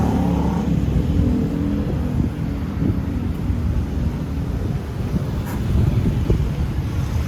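Heavy street traffic in Naga city, Philippines: a dense, continuous rumble of engines and passing vehicles, fairly loud, with wind noise on the microphone and no talk.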